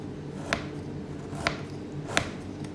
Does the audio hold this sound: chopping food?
yes